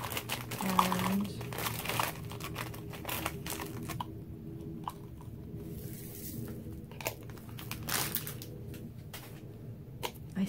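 Haribo peach gummy candies rattle and crinkle as they are dropped into a small jar, a series of faint, close plastic rustles and soft clicks with quiet pauses between them.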